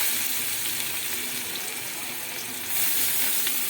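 Chopped onion sizzles in hot oil in a kadai beside fried katla fish, a dense, even hiss close up that swells louder near the end.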